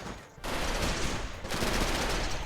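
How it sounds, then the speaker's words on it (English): Light machine gun and designated marksman rifle fire in the Rimworld video game, heard as dense, sustained bursts of overlapping shots with a brief lull, loud and close. "LMG and designated marksman rifle."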